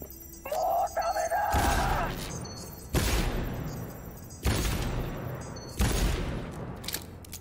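Pistol shots in Cyberpunk 2077 ring out four times at an even pace, each a sharp, loud crack with a reverberant tail, following a brief stretch of other game sounds.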